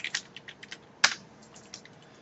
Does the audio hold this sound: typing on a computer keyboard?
yes